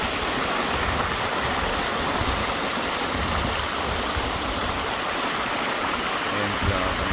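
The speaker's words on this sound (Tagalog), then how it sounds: "agos ng tubig." A mountain stream at Cradle Mountain, Tasmania rushes steadily and loudly, a dense, continuous wash of flowing water with no pauses.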